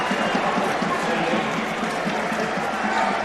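Dense, steady crowd noise fills a high school basketball gym during a St. Edward game against Saint Ignatius, a continuous roar of cheering voices with no single standout burst.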